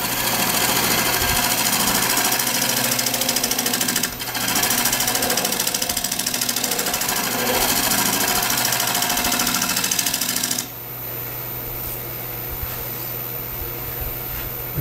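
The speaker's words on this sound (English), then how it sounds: "Lathe speed up a little bit more." A wood lathe spins a square cottonwood burl bowl, a loud continuous buzzing hum with steady rapid vibration that drops to a quieter level near the end as the speed changes.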